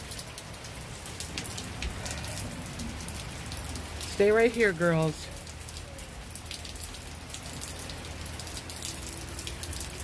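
Rain falls steadily at the beach, a constant hiss of drops on surfaces, while someone briefly speaks partway through.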